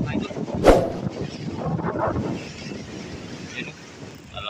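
Strong habagat monsoon wind roaring into the microphone in a rural Philippine area, a sharp gusting buffet near the start, then steady turbulent rushing that eases slightly, with no talking.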